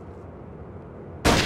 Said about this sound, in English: Eight shots. Four bullets.